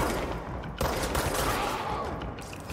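Rapid gunfire crackles in the action game Control, several sharp reports mixed with dense continuous shooting in a loud, reverberant space.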